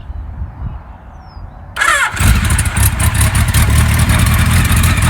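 A 1976 Kawasaki KZ900 motorcycle engine is started after quiet electric cranking, catching and settling into a loud, steady, close idle with no talking over it.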